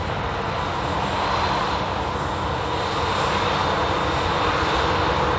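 Airbus A350 airliner engines at Manchester Airport, a steady, loud roar with a high whine above it, holding even and unbroken throughout with no voices.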